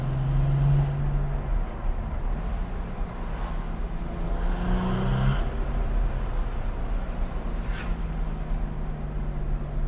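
A 30-year-old Porsche 993 with a naturally aspirated 3-litre flat-six of 280 horsepower and manual gearbox, heard from inside as a steady engine drone with rising and falling tones through the gears under road rumble.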